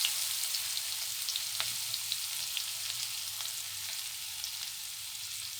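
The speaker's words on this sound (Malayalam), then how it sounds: "കുറച്ച് സവോള ഇട്ടിട്ടുണ്ട്." Onion sizzling steadily in hot oil with mustard seeds, a dense even crackle and hiss with small pops, close and continuous with no talking, during the making of a bitter gourd thoran.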